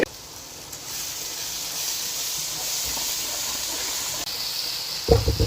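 Dried fenugreek and cumin seeds sizzling in hot oil for a bhindi masala, a continuous even hiss with a brief clatter near the end, no talking.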